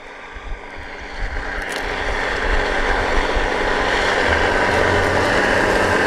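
A 300-horsepower tractor pulling a Versatill 7500 Pro field cultivator at high working speed drones steadily, a low rumbling roar that swells slightly and holds constant throughout, with broadband mechanical noise and no voices.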